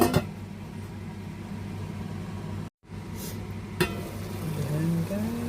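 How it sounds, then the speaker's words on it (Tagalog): Pork giniling with vegetables sautéing in a covered pan, giving a steady low sizzling bubble that drops out briefly and then returns, with a clank partway through. Quiet and close, with no talking. "Ayan guys, nagkulo-kulo na natin gisadong giniling"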